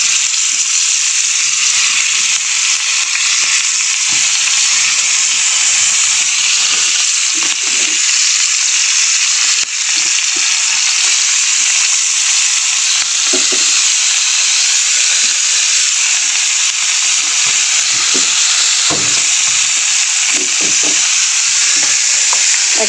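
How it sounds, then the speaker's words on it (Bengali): Bata fish coated in salt and turmeric frying on a hot tawa, a loud, dense, continuous sizzle close up with occasional faint clicks of a utensil underneath. "তাওয়ার মধ্যে এক এক করে মাছগুলো দিয়ে ভেজে নেব"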